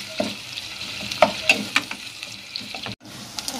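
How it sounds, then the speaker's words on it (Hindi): Onions and green chilli frying in hot oil in a pan, a steady soft sizzle with a few sharp stirring clinks and scrapes, one brief drop-out near the end, no talking. "देखिए प्याज जो है वो हल्की सी फ्राई होना स्टार्ट हो गई है"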